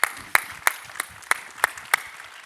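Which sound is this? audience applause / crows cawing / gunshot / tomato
audience applause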